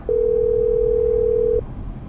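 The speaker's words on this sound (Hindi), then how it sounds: "कॉल आ गया किसी का।" A phone signals an incoming call inside a taxi with a single loud, steady electronic tone that lasts about a second and a half over low background rumble.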